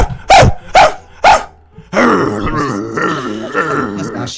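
A person imitates a dog from Paw Patrol, giving three loud, gruff barks close up, then a longer run of growling, groaning dog-like noises.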